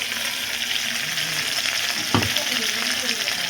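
Ginger garlic paste frying with mutton pieces in a pot, a dense steady sizzle and crackle with one brief knock from a utensil.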